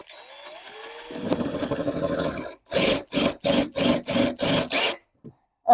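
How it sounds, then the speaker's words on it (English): A power drill grinds roughly into the metal of a BMW Z3's stuck trunk, followed by a series of about seven sharp, evenly spaced bursts of drilling, close and loud. "This drill is not meant for this."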